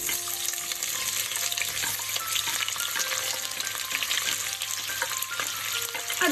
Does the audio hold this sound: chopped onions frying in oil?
yes